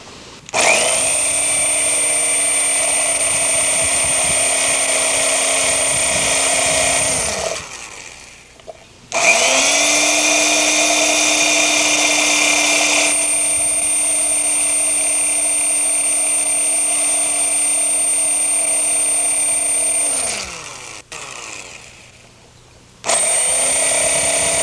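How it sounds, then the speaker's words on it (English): A power drill whirs loudly in three long bursts, spinning up, holding steady, then winding down between runs, with no talking. "we drill on each of the 4"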